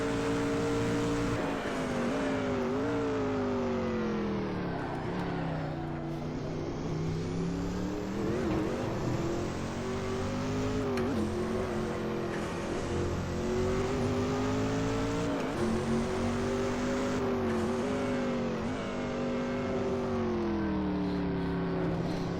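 A Group C race car engine in a sim racing game drones loud and continuous, revving up and down through gear changes with sweeping pitch rises and drops, alone without talk.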